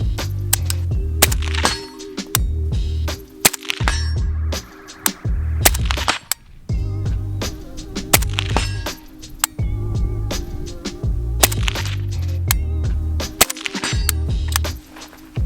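A Custom Rifle Dynamics 704 AK pistol fires at a 100-yard target: a long string of sharp, loud cracks in uneven bursts, with a steady musical backing underneath.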